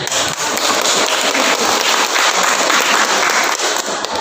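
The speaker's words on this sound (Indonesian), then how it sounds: "Kepada beliau tepuk tangan." Audience clapping at a teachers' workshop on deep learning, a dense, loud, steady patter of many hands that holds evenly throughout without pause.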